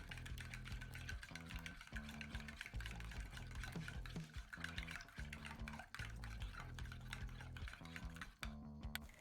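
Slime mixture with a cup of water added, stirred steadily in a container, giving a continuous close scraping, swishing rhythm with repeated strokes throughout and no talking.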